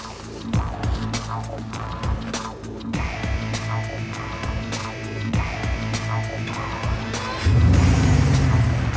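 A Bugatti Veyron drives at high speed, its engine a steady, loud roar with periodic thumps and a surge near the end as it builds louder, no talk over it.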